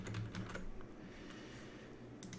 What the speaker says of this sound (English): Use Control C on your keyboard on a Windows machine